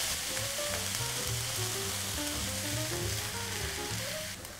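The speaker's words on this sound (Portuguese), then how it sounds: "Vou mexer tudo novamente" A chicken and tomato filling is stirred in a hot pan, a steady close sizzle running under repeated scraping spoon strokes, then easing slightly at the end.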